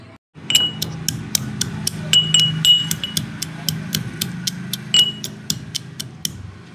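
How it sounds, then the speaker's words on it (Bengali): Ginger and garlic are crushed in a small mortar and pestle, giving repeated sharp clinking taps in an uneven rhythm, close and fairly loud with a low background hum. "আমি একটু নিয়ে নিয়েছি আদা রসুন, এটাকে আমি একটু থেতো করে নেব"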